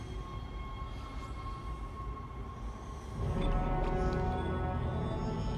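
Tram ride in the sci-fi horror game Dead Space: a steady rail rumble with tonal hum that swells louder partway through as the car picks up, with no voices over it.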